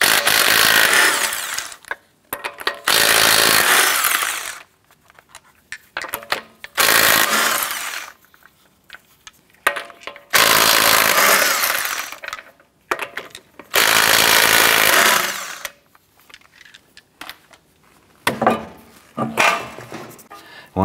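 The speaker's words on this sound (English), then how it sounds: "Using a 19 millimeter socket, remove your right front wheel." A 19 mm socket on an impact tool spins off the lug nuts of a 2004-2008 Acura TL right front wheel, in several loud rattling bursts separated by quiet pauses, with no talking.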